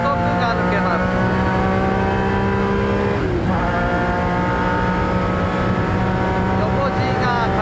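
A 1994 Honda NSX race car engine roars loudly at Le Mans, droning at high revs, dipping briefly at a gear change and climbing again, with someone talking over it.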